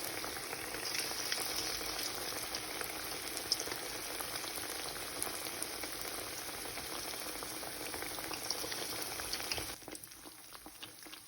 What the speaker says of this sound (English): just fry them on low heat for 15 to 20 minutes until they're crispy on both